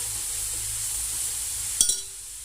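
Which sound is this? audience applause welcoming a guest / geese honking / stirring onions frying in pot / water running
stirring onions frying in pot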